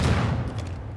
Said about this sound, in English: I don't know if those booms were a shotgun